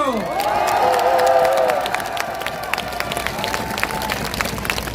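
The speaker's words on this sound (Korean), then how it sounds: "자, 박수 한번 주십시오." A large outdoor crowd at a presidential campaign rally in Wangsimni Square cheers and shouts, loudest at the start. Scattered clapping continues after the cheering fades.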